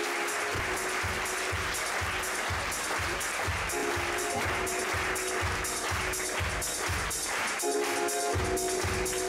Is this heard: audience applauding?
yes